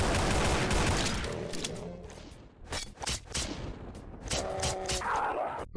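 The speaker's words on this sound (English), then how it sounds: "I'm just gonna use 3 shells on this Hell Knight here" Shotgun blasts fired at a Hell Knight in the Doom video game, with a modded arsenal; a burst of loud, booming game gunfire followed by several sharp separate shots and heavy impacts, close and dense.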